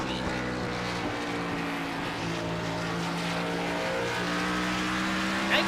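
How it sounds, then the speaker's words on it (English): Race car engines in a NASCAR Xfinity video game at Bristol Motor Speedway drone steadily throughout, a dense, continuous roar of several cars running together at a constant loud level. "you see right there that red and green car, Albert Reinhardt in second position"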